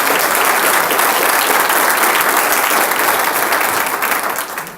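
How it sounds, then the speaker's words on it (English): A room full of attendees at an economic development annual meeting breaks into steady applause, broad and continuous clapping that holds strong before tapering slightly at the end. "let's have a round of applause for these people"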